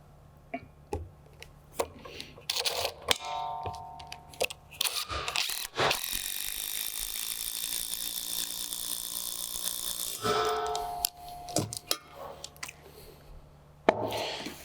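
Screws being driven to fasten a post mount to a deck, with a long continuous whirring run from a power driver between ratcheting clicks, clunks and handling noises, close and fairly loud, no speech.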